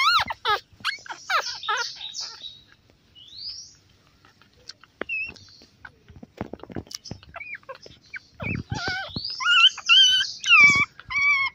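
Several four-day-old beagle puppies whimper and squeal in high, wavering cries, close by, with bursts of yelps and quieter gaps between them.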